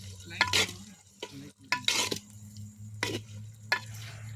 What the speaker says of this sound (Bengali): মাংস কষানো হচ্ছে এখন